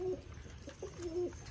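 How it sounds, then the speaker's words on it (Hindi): A green pigeon coos softly nearby, a few low, mellow notes in a short, quiet call. "ये हरा कबूतर है तो इसको पास बुलाते हैं।"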